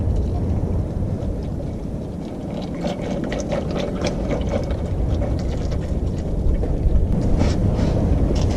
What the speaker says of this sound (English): It's a wet, windy day